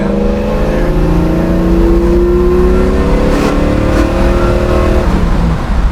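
A 1967 Ford Mustang's V8 engine revs steadily and loudly up close, its pitch climbing slowly for about five seconds before dropping back, with a continuous deep rumble throughout.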